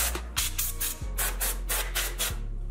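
Repeated short hissing bursts from a compressed air can blowing dust out of a desktop PC, about a dozen quick sprays in a steady rhythm, close and fairly loud.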